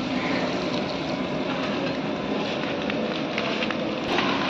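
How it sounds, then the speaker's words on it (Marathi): Steady, dense rain pours down over an outdoor gathering where a meal is being cooked, a continuous close hiss with no pauses and no talk. "हा बघा पाऊस पडतोय."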